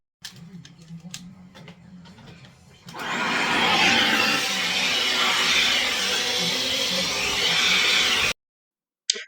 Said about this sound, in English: normally if you follow me, I don't do the vacuuming, Orlando does.